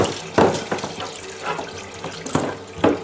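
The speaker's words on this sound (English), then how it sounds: "But I do like to rinse everything out." Tap water runs steadily into a sink while still parts are rinsed, the flow splashing and gurgling in uneven surges as items pass under it, close and fairly loud with no talk.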